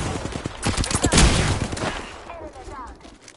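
Rapid automatic gunfire from SMGs in the video game Apex Legends, a dense burst of close shots that thins out toward the end, with a player talking over it.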